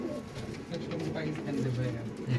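Imported chitiya pigeons coo in a cage, giving soft low repeated coos with people talking over them close by.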